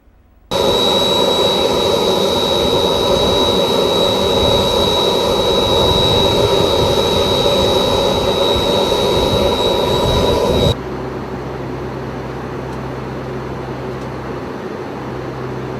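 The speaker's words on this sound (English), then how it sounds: "I caught a ride on the NOAA G4 jet" Inside a NOAA G4 jet flying a hurricane reconnaissance mission, a loud, steady cabin roar with a constant high whine that abruptly drops to a quieter, lower hum near the end.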